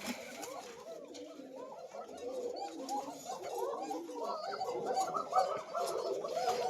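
Many Kokah pigeons cooing and calling together in a steady, overlapping chorus, fairly close, with no pauses throughout.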